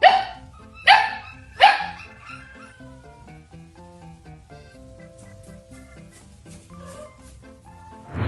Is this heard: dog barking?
yes